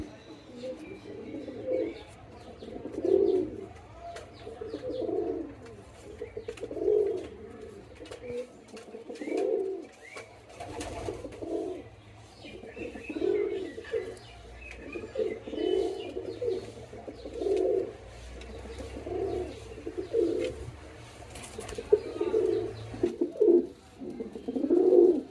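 Domestic pigeons coo in a close, repeated rhythmic series of low throaty calls, roughly every second or two, with occasional soft chirps and background rustle.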